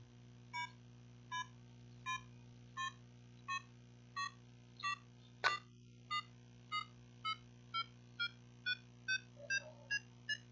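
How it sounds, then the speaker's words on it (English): A classroom countdown timer, running 20 seconds during a science quiz, beeps steadily with about seventeen evenly spaced short electronic tones over a low steady hum; one sharp click interrupts midway. "Timer starts now."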